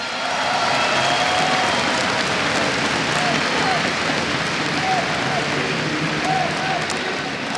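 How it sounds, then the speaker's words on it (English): Crowd applause fills an esports arena at a Counter-Strike: Global Offensive grand final in Katowice, a dense, steady roar of clapping and cheering that holds loud and continuous throughout, with faint announcer-like voices underneath. "we need to invite onto stage, round of applause"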